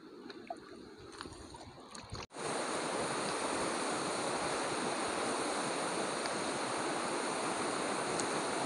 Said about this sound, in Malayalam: ഇത് അത്യാവശ്യം നല്ല സ്പീഡിൽ വെള്ളം വരുന്നുണ്ട്.